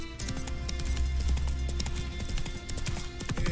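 Roach the horse gallops in The Witcher 3, hooves drumming in a fast, even clip-clop rhythm close up over a constant game soundscape.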